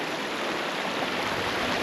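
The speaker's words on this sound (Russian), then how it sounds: "тут течет горная вода" Mountain stream water rushing steadily in a gorge near Tibet in Kyrgyzstan, a close, continuous broadband wash with no pauses and no voices.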